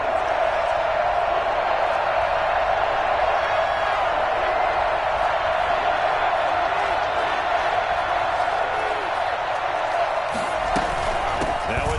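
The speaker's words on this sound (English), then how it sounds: "the crowd getting into it as we come up on a big third down" Football stadium crowd during a game, a dense, constant roar of many voices that holds steady and loud throughout, with no distinct breaks or individual cheers standing out.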